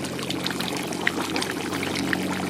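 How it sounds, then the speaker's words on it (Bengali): Kewra water and rose water pour steadily into a pot of chicken curry gravy, a continuous close liquid splash and trickle with no talk, cooked in a village setting. "কেওড়া জল ও গোলাপ জল দিয়ে দেব, যাতে কম্বাইন্সটা খুব সুন্দর হয়।"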